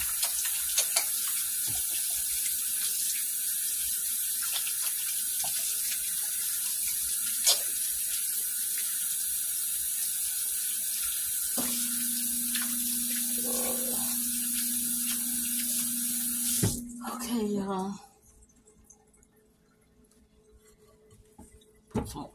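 Hands are rinsed under a running kitchen tap during dough making: a steady, close rush of water that stops abruptly with a squeak of the faucet, leaving near silence.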